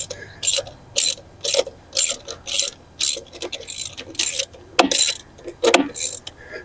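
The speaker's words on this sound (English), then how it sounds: "by screwing it onto the extended portion of the stud that's above the lug nut" A hex driver ratchets a LugDawg lock onto a trailer's extended lug stud, producing about a dozen loud, close bursts of rapid ratcheting clicks in a steady, even rhythm with brief pauses between strokes.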